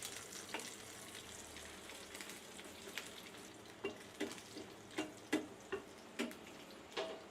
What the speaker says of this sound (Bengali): খুবই হালকা জালে মাছটা ভাজা হয়েছে